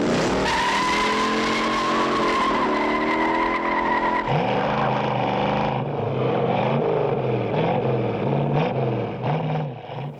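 Car chase effects from the film Bullitt: tires squeal and skid continuously while engines roar and shift pitch, loud and close, one long screeching slide giving way to repeated swerving squeals.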